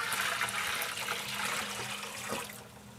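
A home sump pump pumps water out of its pit with a steady gurgling, rushing flow over a low motor hum, fairly close and continuous, easing slightly at the end, with no talk.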